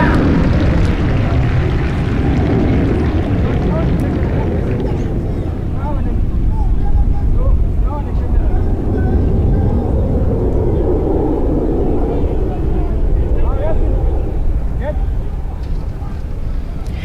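Military aircraft, including a 2 Squadron jet, roar past during a mass flypast at a South African Air Force display, a loud, steady, broad rumble that swells and eases across the whole stretch, with a voice faintly beneath.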